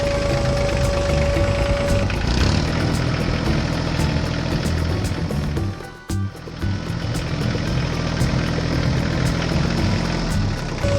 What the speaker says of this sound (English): The farmer attached the cultivator to the tractor and headed out to the field.